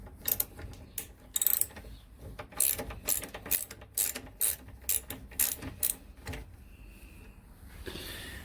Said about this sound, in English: It would help if I had the ratchet.